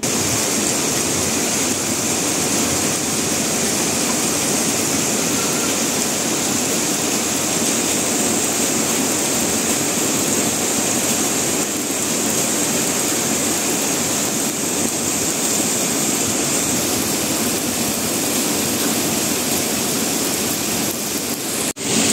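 Dense, steady roar of heavy rain pouring down without a break, loud and close, with no voices.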